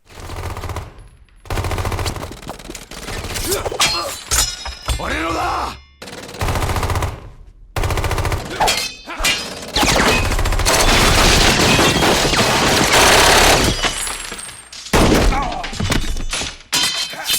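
An all-out gunfight in the video game Saints Row 2 erupts in loud, dense bursts of machine-gun and pistol fire, with thuds and explosions, broken by short gaps, and brief voices shouting amid the chaos.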